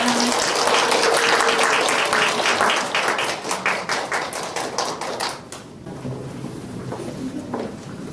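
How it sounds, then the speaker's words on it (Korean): An audience at an author's book lecture welcomes the speaker with loud, dense applause that holds for about five seconds, thins into scattered claps, then dies away. "큰 박수로 맞이하여 주시기 바랍니다."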